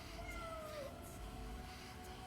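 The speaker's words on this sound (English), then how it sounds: "I can meow on command." Cat meowing in the video game 1666 Amsterdam, a short faint meow with a falling pitch over a steady low background hum.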